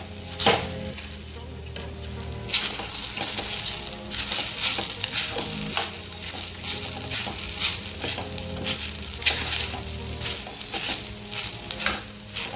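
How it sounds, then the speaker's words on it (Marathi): Sabudana khichdi with crushed peanuts stirred in a frying pan for a fasting recipe: continuous sizzle with repeated scraping, clinking spoon strokes against the pan, close and fairly loud, no talking. "आता आपण यामध्ये शेंगदाण्याचं कूट घालून घेणार आहोत आणि याला परत मिक्स करून घेणार आहोत।"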